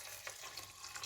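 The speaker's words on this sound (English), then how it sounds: "Add water." Water is poured into a cooking pot of spiced lentils for tadka daal, making a steady, quiet running-water wash close by without talk.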